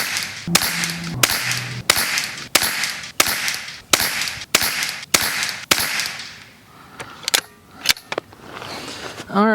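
Ten sharp, evenly spaced .22 LR shots crack from a Savage MK II rifle at a steady pace, each with a short decay, followed by a few softer handling clicks.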